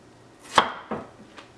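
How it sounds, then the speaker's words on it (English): Knife chops through daikon radish on a cutting board: one crisp loud cut followed by two softer strikes, spaced out, with no talking. "And the same with the daikon. We're going to cut one side of it."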